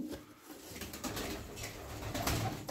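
Faint, low cooing of Sütbeyaz play pigeons fills a quiet loft, a soft continuous murmur of several birds with no talking.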